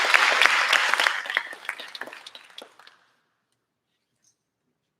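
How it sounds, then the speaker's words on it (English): Audience applause at a high school theater department awards ceremony, a dense burst of clapping that thins out and stops after about three seconds, followed by silence. "One more round of applause for those folks."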